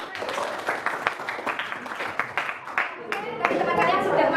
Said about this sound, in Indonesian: Tepuk tangan dulu untuk teman.